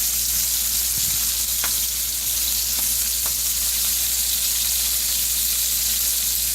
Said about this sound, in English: And we're going to add this garlic in there as well.